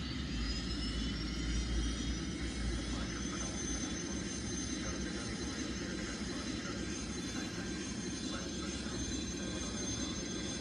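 A jet airliner engine in the Airline Commander flight game roars as a steady, full-bodied drone with a low rumble and a high whine, continuous and unchanging from start to finish.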